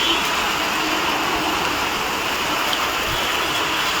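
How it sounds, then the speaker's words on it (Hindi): Heavy rain pouring onto a street lined with shops, a dense, loud, steady hiss of falling water with no breaks. "काफ़ी ज़्यादा अभी बारिश जो है वो हो रही है।"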